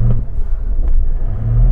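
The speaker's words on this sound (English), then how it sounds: "Let's drag race up this slope." A Range Rover and a Toyota Land Cruiser accelerate side by side in an uphill drag race, a loud, close, low engine rumble that roars steadily through the short stretch with no talking.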